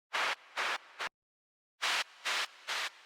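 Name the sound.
filtered white noise riser rising in pitch, Serum synth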